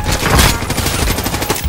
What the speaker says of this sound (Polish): A ja zacząłem z niego strzelać